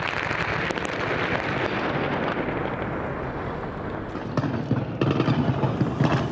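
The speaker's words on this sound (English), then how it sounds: "Explosions and gunfire, a face-off across the bridge." Dense, continuous explosions and crackling gunfire roar without pause in a battle across a bridge, loud and close, with sharper bursts of shots near the end.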